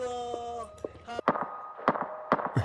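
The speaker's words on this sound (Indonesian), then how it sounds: "Ada suara tembakan guys." Several sharp gunshot bangs in a zombie video game crack out at irregular intervals over game music with sustained tones, each a sudden loud burst.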